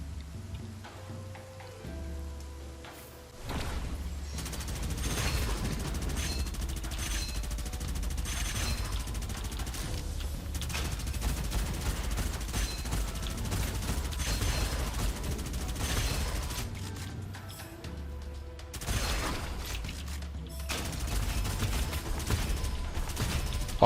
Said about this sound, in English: Oh, look at those double grenades doing so much work.